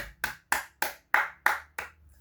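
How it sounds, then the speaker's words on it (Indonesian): In a primary-school classroom, pupils clap for group 3 after its presentation: seven sharp claps struck together in a steady, even rhythm, close and clear, with nothing else heard. "Tepuk tangan dulu buat kelompok 3"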